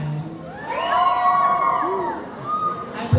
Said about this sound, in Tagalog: Wala po bang hiyawan dyan?